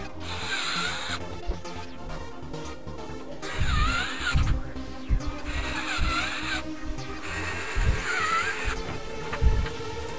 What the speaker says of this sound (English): screw in the four screws.